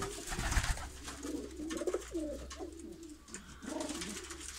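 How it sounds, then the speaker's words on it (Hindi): Several pigeons coo in soft, repeated low rolling calls, close by and overlapping, over a steady low background hum. "सारे कबूतर फिट ने, किसी को कोई फर्क नहीं"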